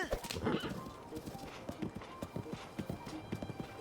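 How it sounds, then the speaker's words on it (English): Hooves clip-clop in Breath of the Wild as a Ganon horse trots, a quick irregular patter of hoofbeats with a loud whinny at the start. "there's a Ganon horse"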